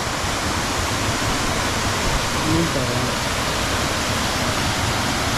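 Steady, dense rush of flowing water at the Ananganmala eco-tourism site, a broad continuous roar close by with no pauses or voices.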